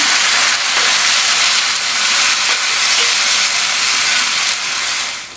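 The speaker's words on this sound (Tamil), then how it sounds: "அதையும் சேர்த்துட்டு இந்த தக்காளியும் இந்த எண்ணெயிலேயே வதங்கட்டும்." Ground tomato puree sizzles and sautés in hot oil in a pan while a drumstick side dish is cooked, giving a loud, continuous frying hiss that eases off slightly at the end.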